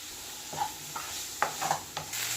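Tomato and noodle masala are stirred in a frying pan over a faint sizzle, with four or five scraping strokes and clinks against the pan.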